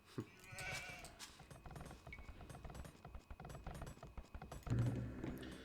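A few sheep bleat faintly amid a busy Age of Empires II HD game soundscape with clicks and thuds, no talking.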